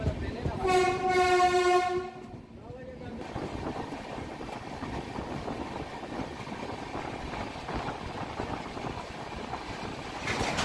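A train on the Howrah-Patna line sounds a loud horn at the start, then rumbles and clatters steadily along the rails as the noise settles into a continuous rolling drone.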